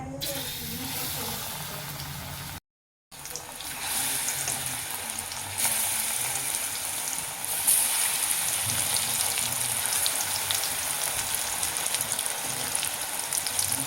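Battered tomato slices frying in hot oil, a steady loud sizzle that continues throughout with a brief gap near the start and no talk over it.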